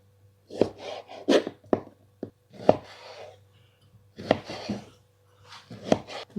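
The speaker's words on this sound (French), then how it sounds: "maintenant, je vais couper la mangue." A knife cutting a mango on a board, with a series of close, crisp chopping thuds and short slicing scrapes in irregular bursts separated by quiet pauses, no talk.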